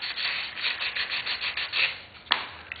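A fingertip rubbing freshly dropped CA glue smooth on a handmade fender, a close, steady scratchy rubbing in quick repeated strokes, ending with a single sharper scrape near the end.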